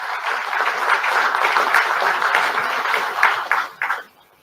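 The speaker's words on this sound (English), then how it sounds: "Good round of applause for the entire team." An audience claps in a steady, full round of applause at an electronics-component press briefing, holding level for about four seconds before tapering into a few scattered final claps and silence.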